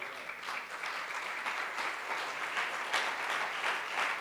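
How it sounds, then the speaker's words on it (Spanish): A church congregation claps steadily and loudly through the whole stretch, dense sustained applause with no pause and no voices standing out. "Dale un aplauso al Señor, mi hermano."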